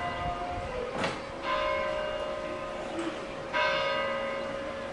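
Bells ring out in a few separate peals over a steady low hum, moderately distant, with no one speaking.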